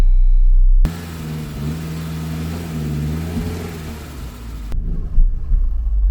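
A Saab 93 engine runs loud and close in a steady mid-pitched drone with slight rises in pitch, straining against seized front brakes, then cuts off abruptly near the end, leaving rough handling noise.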